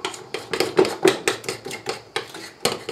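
Spoon clinking against a bowl while cocoa is stirred into cake batter for a quick breakfast cake, a rapid series of sharp scraping knocks, close and fairly loud, alone without talk.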